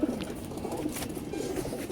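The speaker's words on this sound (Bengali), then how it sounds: "এগুলো সব নর, সব আমার উড়ানো কবুতর" Pigeons cooing, with the coos of male flying pigeons kept by a fancier. The cooing is low and fairly steady and carries on through the whole stretch, moderately close against a soft murmuring background.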